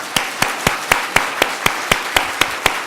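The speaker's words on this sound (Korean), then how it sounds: "우리 함께 박수 한번 하십시오." A church congregation claps together in a slow, steady, evenly spaced rhythm, loud and close, with no talking over it.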